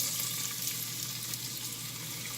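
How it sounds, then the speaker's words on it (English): Chopped onion sizzles steadily in an oily pot, a dense continuous hiss with faint crackle held at an even level and no talking. "Next thing I'm going to put in here is 1 large onion chopped."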